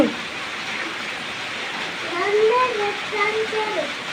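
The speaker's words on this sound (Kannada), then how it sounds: "ಸಿರಿ ಮಳಿ ಹೆಂಗೆ ತಪ್ಪು ಹೆಂಗಾಗೈತಿ ಬೇಜಾರಾ ಮಳಿ ಭಾಳ ಬೇಜಾರಾಗಕತ್ತೈತನು" Steady rain falls outside as a constant hissing wash, while a child and an adult talk over it.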